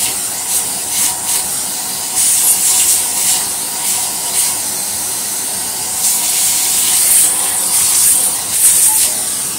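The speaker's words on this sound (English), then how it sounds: "Next, we'll spray a little bit more on here now." Repeated hissy bursts of cleaning liquid sprayed onto carpet over a continuous loud rushing noise, the sprays coming in short pulses every second or two.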